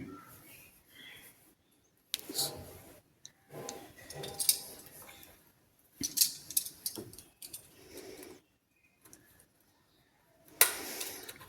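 Small plastic clicks, taps and light rattles come in scattered bursts separated by near-silence as the LCD screen of a Sony portable DVD player is pried apart and dismantled, close up.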